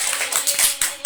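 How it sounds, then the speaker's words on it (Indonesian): A small discussion group at a reading community gathering claps hands in a loose, uneven burst of separate claps that swell and fade irregularly, close by. "Oh nambah ya, weh, tepuk tangan deh."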